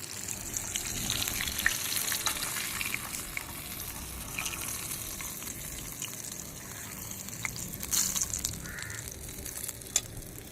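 Fish fries in a pan of hot oil in a small home kitchen, a steady close crackling sizzle that runs unbroken throughout, with a few louder pops and spatters and no talking.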